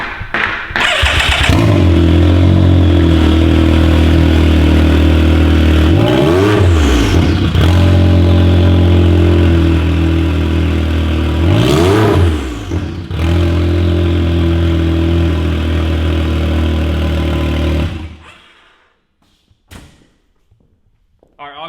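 A loud Can-Am engine with a modified exhaust roars close by, revving up twice with rising and falling pitch before cutting off abruptly into near silence.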